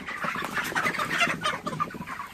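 A flock of 31-day-old broiler chickens eating grain from feeders, filling the space with dense, close clucking and overlapping chatter with no pauses.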